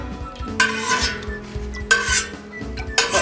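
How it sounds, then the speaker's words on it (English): Rennet is stirred into milk in a pot for mozzarella with up-and-down scooping strokes, heard as three separate scraping, sloshing bursts against the metal, close and alone. "we're going to stir it in with an up and down like we're scooping"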